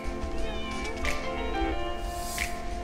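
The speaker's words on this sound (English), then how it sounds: "We're hanging out with some pretty cool cats." Cats at a cat cafe meow near and clear, with a couple of short, rising cries over a steady background hum and light room noise.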